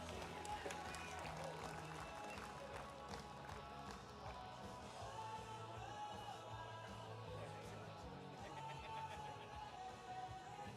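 Crowd applause for STIHL Timbersports wood-chopping competitors, a dense, steady clatter of clapping that holds at one level for the whole stretch, with a voice faintly underneath.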